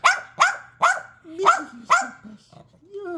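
A dog barks close by, about five sharp barks in a quick, uneven rhythm, followed by a few softer whines and yips.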